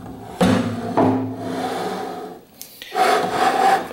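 A milling vise is dragged and rotated on a PM-727M mill table, making heavy, close scraping and rubbing sounds in several separate pushes.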